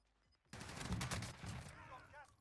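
A Gallo SA12 shotgun firing in Call of Duty Warzone, a burst of rapid loud blasts after a quiet moment, then trailing off with faint voice-like sounds.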